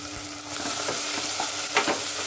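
A spatula works boiled mashed potato into tomato purée in a hot pan, giving a short close burst of sizzling with thick, soft stirring scrapes.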